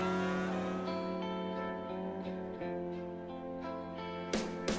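Formula 1 cars on dry tyres slide around a slippery track, with loud engine whines rising and shifting pitch over several seconds. A harsh burst of tyre squeal comes near the end.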